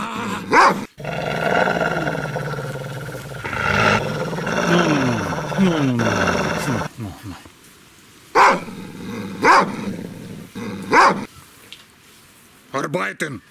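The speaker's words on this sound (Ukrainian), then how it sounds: "А зараз я вам продемонструю собаку-невидимку." A dog barks in short, rough bursts, some sounding growly, with a person talking at length before and between the barks.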